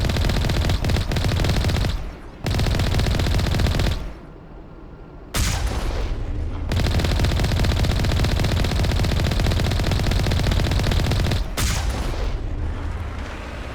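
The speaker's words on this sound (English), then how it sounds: "So these are automated turrets." Automated turrets in the Mass Effect game fire loud sustained bursts of gunfire with heavy booms, broken by two short pauses, filling nearly the whole stretch without any talk.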